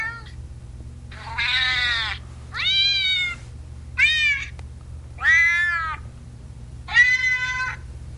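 A cat gives six distinct meows in a slow, uneven series, each about half a second long, fairly close and clear over a low steady hum.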